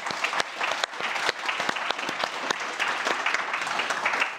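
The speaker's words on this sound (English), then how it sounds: "Shall we give Rod an applause?" Steady, moderately distant audience applause for a speaker at a panel on the Swedish mining cluster and Europe's metal supply, with many individual claps blending into an even patter.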